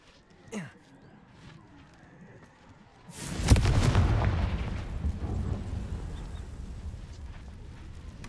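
A Confringo fire spell goes off in the Hogwarts Legacy video game, a sudden loud blast with a deep, rumbling burst that slowly fades into crackling debris, after a brief earlier pop.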